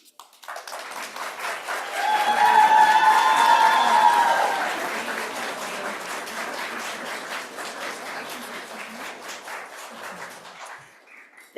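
An audience at a Monroe County legislature meeting breaks into loud applause with some cheering, swelling within two seconds and then holding steady as a thick, continuous clapping that slowly fades toward the end.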